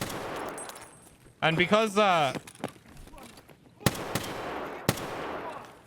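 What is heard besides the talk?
M1A semi-automatic rifle gunfire in video game Escape from Tarkov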